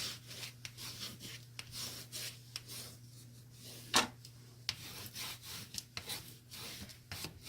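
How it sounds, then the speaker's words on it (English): Paper is burnished down onto chipboard with repeated soft rubbing strokes, faint and close, forming a quiet rhythmic swishing with an occasional sharper tap. "you want to burnish all of this down"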